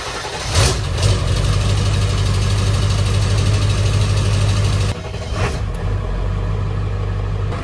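A Ford 7.3 Powerstroke diesel engine with a newly fitted exhaust idles steadily, a loud, close, even low rumble with a slight shift midway and no voices.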